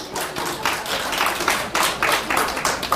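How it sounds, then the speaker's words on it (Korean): Audience applause for a class at a Bible seminar leadership course, a dense, steady wash of many hands clapping close up with some louder individual claps, no talk over it. "박수 한번 주시죠"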